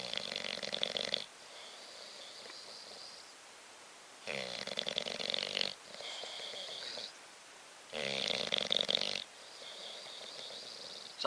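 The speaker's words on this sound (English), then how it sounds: "He's snoring." A bulldog snores in three loud, rasping bursts, each about a second long, separated by quieter wheezy breathing, close up with no talking.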